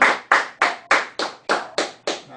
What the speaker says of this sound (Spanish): Brindémosle un aplauso a nuestro Señor Jesucristo.